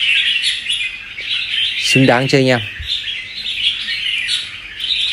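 A caged songbird (bulbul type) facing a rival calls over a steady hiss of other birds: one short burst of loud, clear warbling notes midway, with someone talking briefly.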